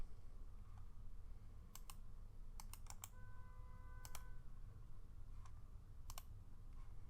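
Sparse, crisp clicks on a computer during a Salesforce setup session, single and double taps spaced irregularly, close and quiet over a faint steady room hum with no talking.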